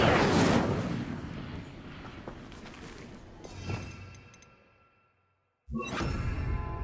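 An Incendio fire spell is cast in the video game Hogwarts Legacy with a loud roaring whoosh that fades into rumbling, then drops to brief silence before a sharp new burst of sound.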